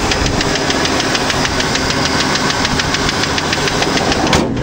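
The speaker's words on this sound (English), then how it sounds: "this looks like it's going to be a strong engine once I get that tapping noise done" A truck engine runs steadily with a rapid, even metallic tapping riding over the loud, continuous idle rumble, close up and without voices.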